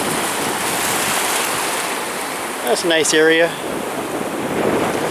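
Ocean waves wash onto the beach at Galveston in a steady, broad surf roar with wind noise, while a person speaks briefly partway through.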